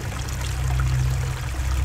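Flowing water in a temple in a video game, a steady close trickle and splash over a constant low hum, unbroken for the whole short stretch.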